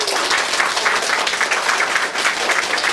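Guests at a child's first birthday party break into hearty celebratory applause, a dense, loud wash of clapping from a crowded room, steady for a few seconds.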